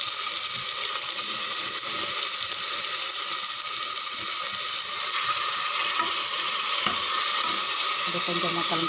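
Masala curry for chicken biryani sizzles and fries steadily in a hot pressure cooker on low flame, a loud continuous hiss with occasional stirring clatter.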